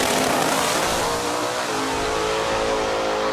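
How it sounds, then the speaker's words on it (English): A 1968 Ford Falcon race car revs hard and continuously, its loud, close engine roar holding a bright, sustained tone throughout with no talking. "I drive a 1968 Ford Falcon called the worst car ever."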